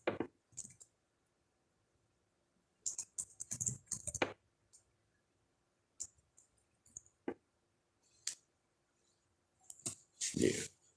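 Scattered bursts of clicking keystrokes on a computer keyboard, typed in short irregular runs separated by pauses, fairly close and quiet, with no talking over them.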